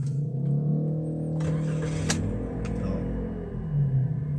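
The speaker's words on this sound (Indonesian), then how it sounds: "Misalnya kondisi ini di P, baru mobil bisa kita starter seperti ini" An automatic car in Park is started, its engine catching and settling into a steady low idle with a slight rev, close by and without talk.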